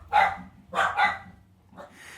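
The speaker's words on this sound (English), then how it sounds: "dog's barking." A dog barks in a few sharp bursts, two close together then a softer one after a pause, moderately near and heard on its own.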